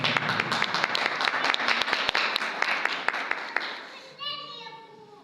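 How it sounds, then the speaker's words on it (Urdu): Church congregation claps to welcome a pastor before an Urdu sermon, loud rhythmic applause with distinct sharp claps for about four seconds, then a voice begins speaking as the clapping dies down. "زوردار تالیوں۔"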